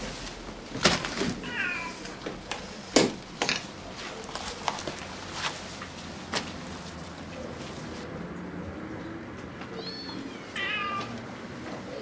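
Several cats meow in an apartment, short high cries near the start and again toward the end, mixed with sharp knocks and clatter, the room quieter in between.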